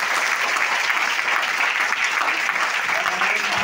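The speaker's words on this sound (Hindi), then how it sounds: "लेट्स ग्रो सिस्टम के लिए जोरदार तालियां हो जाए।" An audience at a direct-selling event gives a dense, steady round of applause, loud and continuous throughout with no talk standing out.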